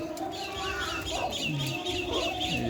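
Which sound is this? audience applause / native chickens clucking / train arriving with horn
native chickens clucking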